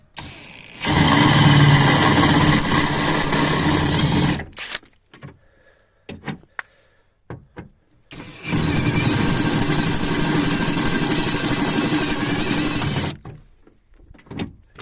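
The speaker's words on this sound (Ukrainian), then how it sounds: "бачимо, сверлиться, якщо дуже хороше сверло, сверлиться непогано" A drill with a 6 mm bit bores out a rivet while a front window regulator comes out of an Opel Vectra C or Signum, two sustained loud grinding bursts separated by a few seconds of quiet clicks and knocks.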